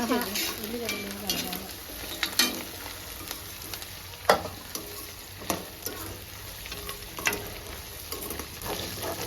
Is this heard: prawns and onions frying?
yes